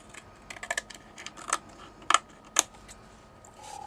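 Scissors cut paper for a scrapbooking shaker card, giving a handful of sharp, close snips in an irregular rhythm over a quiet room.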